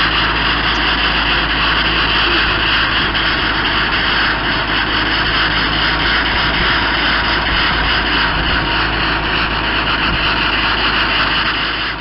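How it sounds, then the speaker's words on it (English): A fire engine's CAFS pump runs with its compressed air supply switched on, giving a steady, loud, unbroken roar and hiss with no talk. "then you're going to turn the air supply on to the discharge being used."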